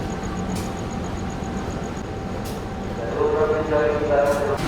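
The Gajah Wong passenger train runs on the rails, giving a continuous rumble and clatter of wheels that swells louder toward the end, with periodic rhythmic knocks and a faint high whine.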